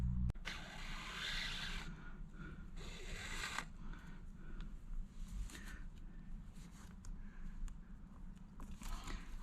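Thread is drawn through a leather steering wheel cover during stitching, giving faint, repeated zipping rasps with a soft engine-like hum underneath.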